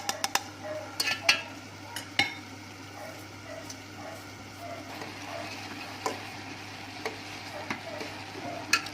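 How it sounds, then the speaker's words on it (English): Rice is stirred in a pot with cinnamon and cardamom for sweet jaggery rice, giving soft scraping and intermittent clinks of a spoon against the pot over a low simmering hiss, with no talk. "We're just going to stir it."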